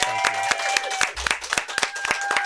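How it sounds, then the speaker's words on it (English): An audience claps for actor Ben Wang at a Karate Kid: Legends appearance, a scattered round of individual claps with uneven, sharp hits close by rather than a dense roar. "Round of applause for Ben."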